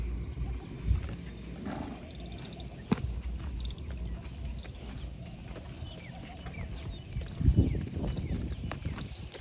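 Horses, including large mares, move about outdoors during training, with hoof clops and thuds over a busy, noisy background and some voices nearby.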